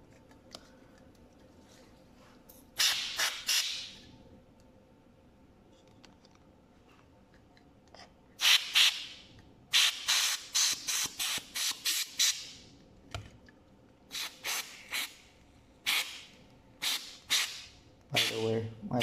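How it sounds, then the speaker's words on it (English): Compressed air blasts dust out of a switched-off laptop in short, sharp hissing bursts, a single puff early, then rapid clusters of repeated sprays, loud and close against a quiet room. "compressed air."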